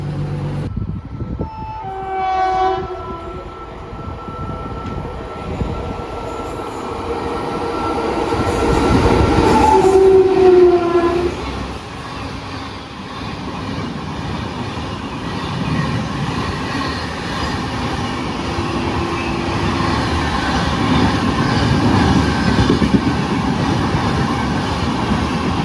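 The Coimbatore–Mangalore Intercity passenger train runs past, loud and close, with a long horn blast, a brief squeal, and a steady rumble and clatter of wheels that builds louder toward the end.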